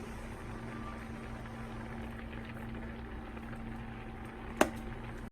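Tteokbokki sauce simmers in a pot with fish cake and onions, giving a quiet, steady bubbling with a low hum underneath. A single sharp tap sounds near the end. There is no talk.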